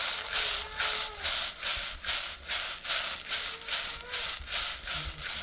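Papaya chutney with turmeric and coriander-cumin is stirred in a pan with a regular back-and-forth scraping rhythm, a loud close rasp repeating about twice a second.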